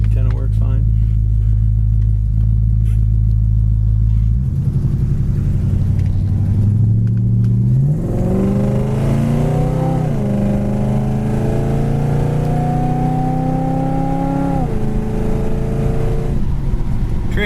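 A 1969 Plymouth Roadrunner V8 with a four-barrel carburetor idles with a deep low rumble, then accelerates hard through rising gear pulls. The engine note climbs, drops at a shift and climbs again, loud and close.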